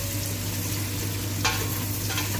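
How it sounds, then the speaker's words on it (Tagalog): Ingredients for spicy adobo fry in a pan with butter and stock cubes, a steady sizzle under a constant low hum, with one sharper crackling burst of stirring midway. "Basta prito-prito lang ng konti."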